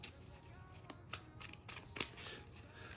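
Yu-Gi-Oh! cards handled and cut, a few quiet irregular snaps and riffles spread over a few seconds, soft and close, with no talk.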